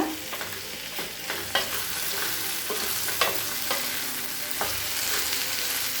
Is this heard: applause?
no